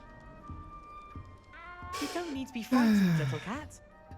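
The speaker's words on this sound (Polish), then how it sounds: "mogę ci ściągnąć tego kota" A cat meows in the video game Hogwarts Legacy. Two or three drawn-out, falling meows come close together over quiet game ambience, and the last cry is the loudest.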